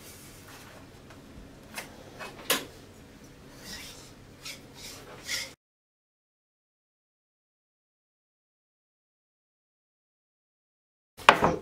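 A knife saws through the crisp, thin pastry layers of a tray of baklava, giving scratchy rasping strokes with sharp crunches for about five seconds, then a pause before a short final burst of cutting.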